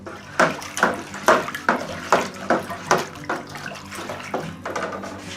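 Apple juice is stirred in a container while making apple brandy. About a dozen rhythmic sloshing swishes sound close and fairly loud, with no voices.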